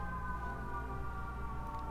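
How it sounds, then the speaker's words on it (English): Faint, distant emergency sirens wailing steadily in the background at night, drawn-out tones over a low constant hum. "sirens in the background"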